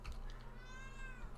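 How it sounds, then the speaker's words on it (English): A cat lets out a long, drawn-out meow close by, rising and then falling in a wavering cry, and it sounds alone, with no talk over it. "If you hear the cat in the background"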